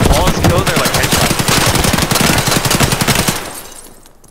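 Rapid gunfire from a first-person video game shooter, continuous automatic bursts filling about three seconds before fading out; a bit of voice sits faintly under the shots.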